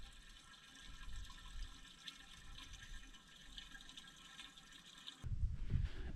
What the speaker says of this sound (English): I'll wash my hands.